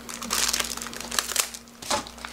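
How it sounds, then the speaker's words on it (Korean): A plastic bag crinkles and rustles as hands handle it in a kitchen, with a run of crackling bursts and a louder crunch near the end, fairly close. "이렇게 묶기 어중간한 비닐봉지 있죠?"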